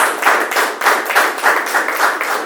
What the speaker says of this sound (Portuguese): Aplauda o Senhor Jesus, irmãos.